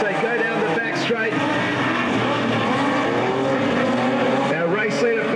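Modified sedan race cars roar down the back straight at Albany Speedway, a loud continuous engine drone with rising and falling pitch as the cars pass close by.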